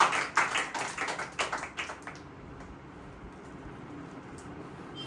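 A church congregation claps enthusiastically to glorify the Lord, a burst of quick, uneven hand claps close by that fades out after about two seconds, leaving a quiet room hum.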